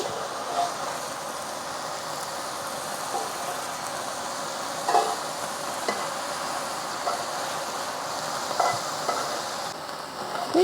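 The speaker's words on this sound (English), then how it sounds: "we want to fry this up in 1 layer to get a good sear on the meat" Meat seared in a single layer in a hot pan sizzles steadily for the whole stretch, a dense hiss broken by a few brief scrapes and clinks of stirring.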